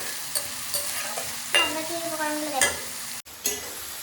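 Onions frying in a pan for a spicy home-cooked chicken dish, a steady close sizzle with brief stirring scrapes and clatters, cut off by a sudden short gap near the end.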